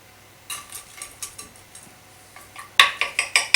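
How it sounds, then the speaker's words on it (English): A knife and spatula cutting into a potato bake in a pan give a series of light metallic clinks and scrapes, sparse at first, then louder and quicker in a closing run of taps. "let's cut into the potato bake"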